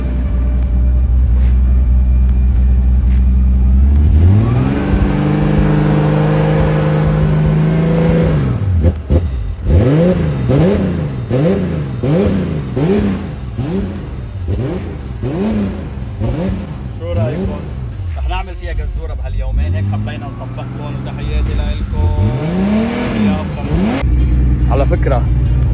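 A 1000-horsepower BMW HPF car revving hard, loud and close, the engine pitch climbing and dropping in repeated rapid blips over a continuous roar, with voices talking over it.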